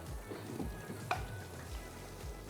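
Butter melts in a pan for chicken curry, a soft, fairly quiet sizzle with low stirring thumps and a brief clink partway through.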